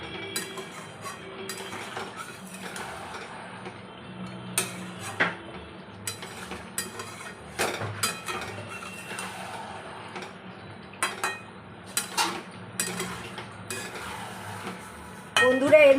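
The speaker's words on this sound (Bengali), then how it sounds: "হাই ফ্লেমে এখন কষছি।" Deshi chicken curry (Bengali country chicken jhol) is sautéed on high flame, with a spoon scraping and clinking against the metal pot in frequent, irregular strokes over a faint background sizzle, up close and without talking.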